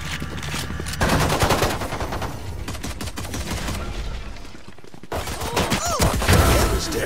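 Gunfire in a competitive Valorant match: close, loud bursts of rapid shots with brief gaps between volleys, dense clusters of cracks, and a short quiet dip before the firing resumes.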